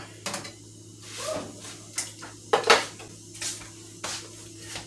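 Sliced zucchini drops into a small saucepan in a home kitchen, making a series of light clinks and clatters of food and metal at close range, spaced through a few seconds.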